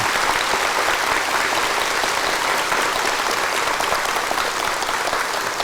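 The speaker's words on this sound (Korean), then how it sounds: "놀라면 이거 박수 한번 쳐야 되겠습니다" A seated audience at a Korean lecture on health claps in sustained, dense applause that stays loud and even throughout, with no talk over it.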